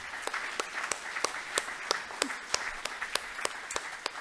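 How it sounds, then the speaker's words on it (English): A reception audience gives a round of applause at a champions' gathering, with steady, moderate clapping and a few sharper claps standing out over the rest. "we can give them a big round of applause"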